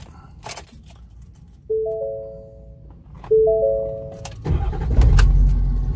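Keys jingle and an electronic chime sounds twice, then a 2017 Ford F450 XLT tow truck engine cranks and rumbles to life near the end.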